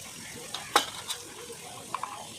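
A spoon stirs ginger garlic paste in a pan, making a few sharp scraping clicks and soft scrapes spread over a couple of seconds under a faint background sizzle.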